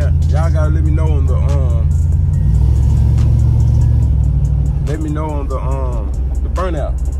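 A car engine rumbles low and steady during a burnout, loud throughout, while someone talks over it almost the whole time.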